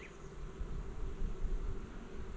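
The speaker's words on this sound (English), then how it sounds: "I got a bee under my veil." A honeybee trapped inside a beekeeper's veil during a hive inspection buzzes in a continuous close drone, steady with slight swells and no talking.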